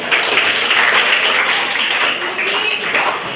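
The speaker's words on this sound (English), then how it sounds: "Clap for team." A classroom claps for a quiz team, a loud continuous burst of many hands clapping together with some voices mixed in underneath.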